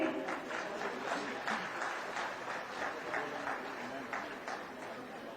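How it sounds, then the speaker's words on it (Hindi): An audience at a job appointment letter ceremony and ITI skill college cafe inauguration applauds in a steady, moderately distant stream of clapping with faint voices underneath. "तालियां आपकी तरफ से।"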